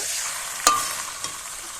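Marinated chicken added to spiced oil and stirred in a pan, a soft continuous sizzle broken by one sharp clack of the spoon and a lighter knock a moment later.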